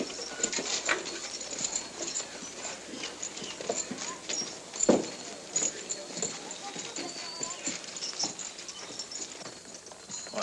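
Horses clop and shuffle on hard ground, with scattered hoof knocks and faint movement noise throughout, no clear talking.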